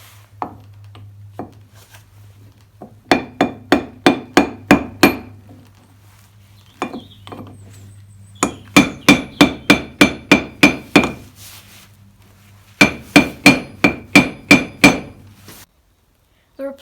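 A hammer taps a bearing out of a Bolens HT23 mower deck spindle using press blocks and a socket, in three bursts of rapid, evenly spaced sharp metallic blows, loud and close, with a faint hum underneath.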